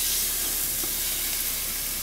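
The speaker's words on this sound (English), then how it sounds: "So it's sizzling, but it's not really smoking too much." Meat sizzles steadily in a hot pan, a continuous bright hiss with no talking over it.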